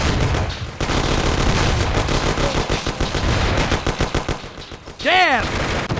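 Gunfire in a shootout from the video game Mafia: The City of Lost Heaven, a dense, loud run of rapid automatic bursts and single shots rattling close and steadily for several seconds, with a rising whine near the end.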